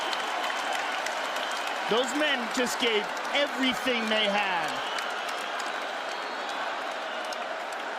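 An arena crowd applauds and roars continuously after the Conor McGregor vs Nate Diaz rematch, a broad wash of noise throughout, with a commentator's voice talking over it partway through.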